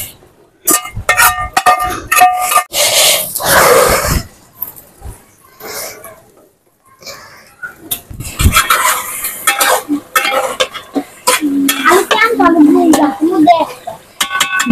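Duck meat for khichuri is stirred and seared in a pan with a spoon clanking and scraping repeatedly against the metal, in bursts broken by pauses. A voice speaks over the cooking.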